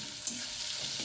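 Chicken with ginger and garlic fries in a pan, a steady soft sizzle and crackle heard close up for about a second with no talk.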